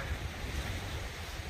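Wind and sea waves wash onto the shore near Portencross around sunset, a close, continuous roar with strong wind rumble buffeting the microphone.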